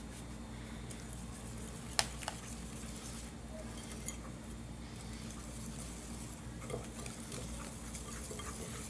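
Cake batter made from boxed mix is stirred by hand, a faint soft continuous swishing with a few light clicks against the bowl in a quiet room.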